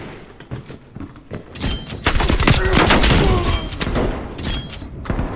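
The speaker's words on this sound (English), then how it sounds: "Enemy sniper shooting." Enemy sniper fire in a multiplayer shooter game, a rapid clattering burst of shots building into a loud sustained barrage, close and dense, with a voice talking briefly early on.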